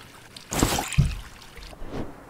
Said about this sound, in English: We're going to fill the jug with water